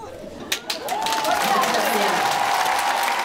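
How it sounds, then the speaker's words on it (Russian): A theatre audience applauds before a performance at a festival of drama-school students, a few separate claps quickly building into sustained, dense clapping with a voice speaking over it. "Овации еще до начала спектакля."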